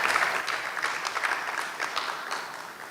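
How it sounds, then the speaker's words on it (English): Audience at a business roadshow event in Ghana claps steadily in a dense, even round of applause, filling the room at moderate distance with no speech over it. "there should be a round of applause for all of us"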